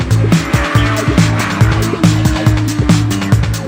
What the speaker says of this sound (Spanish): Kawasaki sigue disponiendo de la moto más eficaz en circuito de la categoría.